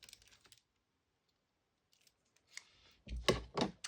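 Paper letters for a journal bingo card being cut with scissors, a few soft snips early, then a pause and a run of louder, closer crisp cuts near the end.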